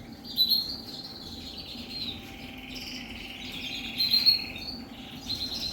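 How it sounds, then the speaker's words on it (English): Coloured canaries and redpolls chirp and twitter indoors in a bird room at the end of breeding season, scattered high calls over a faint steady background hum. "that's inside David's bird room with my coloured canaries"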